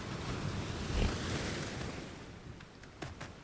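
Ocean waves in the Draconia Bowser video game, a soft continuous surf wash with a gentle swell, faint and steady with a few light ticks near the end.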